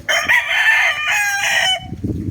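A fighting gamecock offered for sale crows loudly and close by in one long, ringing call, followed by a few rough, low clucks at the end.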